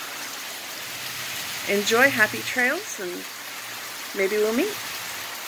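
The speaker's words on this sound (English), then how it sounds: "It's raining." Steady rain falls along the Appalachian Trail on a mild December day, a constant soft hiss heard throughout while someone speaks briefly over it.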